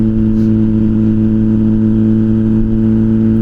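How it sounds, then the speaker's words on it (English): A motorcycle engine runs loud and close with a deep, steady harmonic drone, holding a constant pitch rather than climbing. "if you like the sound of this engine"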